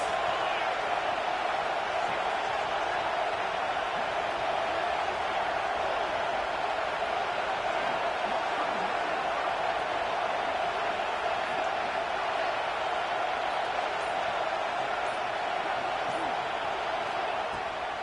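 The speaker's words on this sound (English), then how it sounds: "This crowd trying to make life miserable for this offense." Steady, dense crowd roar from a stadium in an NCAA football video game, a continuous wash of noise filling the whole stretch at an even level with no clear peaks.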